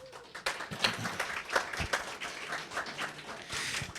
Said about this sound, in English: Give Mike a big round of applause.